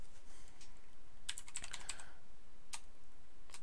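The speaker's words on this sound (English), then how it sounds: "You saw me typing Jade Light!" Typing on a computer keyboard during a Standard Magic: The Gathering match, a quick cluster of crisp key clicks followed by a few more taps a moment later over steady background noise.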